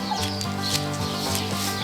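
Giant chickens in a video game cluck in a steady stream of short, repeated tonal clucks over a constant droning game background. The clucks are moderately loud and close, with no talk.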